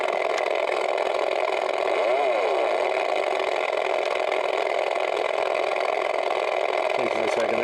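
Kenner Red Line Electronic Drag Racing toy playing its top fuel engine effect, a loud continuous electronic whine-like roar with a short pitch sweep, steady and close throughout.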